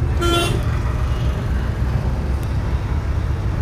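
A car horn gives a short, close, loud toot inside a driving-school car, followed by steady engine and road rumble from the moving vehicle.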